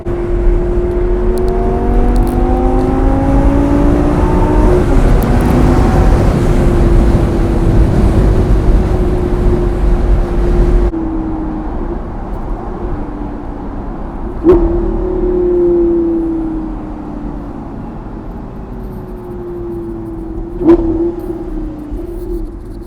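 Lamborghini Gallardo V10 Performante in Corsa mode: a loud engine drones and climbs through gears, then the sound drops to a quieter cruise punctuated by two sharp blips or pops, with no speech.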